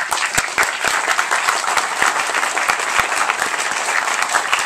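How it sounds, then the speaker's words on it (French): An audience applauds continuously and loudly, a dense, even wash of many hands clapping throughout. "J'aimerais qu'on les applaudisse quelques instants."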